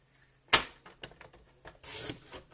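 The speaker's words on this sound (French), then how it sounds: "je vais venir couper en diagonale" Scissors or a paper trimmer cut a 7 cm square of Stampin' Up! cardstock diagonally: a sharp snip followed by a few light clicks and a longer rasping slice, close and clear with no talk.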